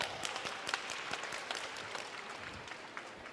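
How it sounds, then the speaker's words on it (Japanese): Audience applause from a live comedy stage show audience, a steady wash of clapping at moderate level with no talking over it. "シャキン拍手"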